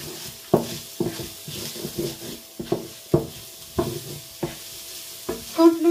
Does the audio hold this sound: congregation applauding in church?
no